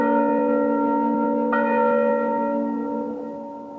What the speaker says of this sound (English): The church bell would be tolling from morning to evening because of so many deaths